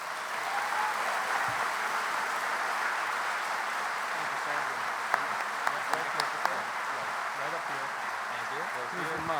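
An audience at a university commencement breaks into sustained applause welcoming the speaker, a steady wash of clapping throughout with a few sharper claps near the end.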